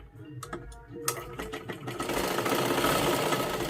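A sewing machine stitches salwar fabric, starting with a few separate needle strokes, then running into a fast steady whir that grows louder and stays close.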